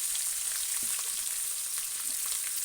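Chopped onion and green chillies fry with curry leaves in a pan, a constant bright sizzle that stays loud and even throughout, with a faint stir or two beneath it.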